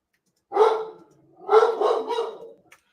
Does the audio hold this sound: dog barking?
yes